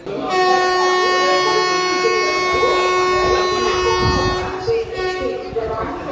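An express train on its first run departs Bhimavaram Town railway station, its horn blaring in a long, loud, steady harmonic blast for about four seconds over rumbling wheels and station noise, then fading into the rolling train.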